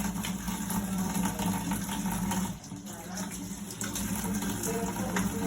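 Water runs steadily from a tap over a metal autoclave surgical kit in a clinic, rinsing it in a continuous close gushing stream with a brief dip midway.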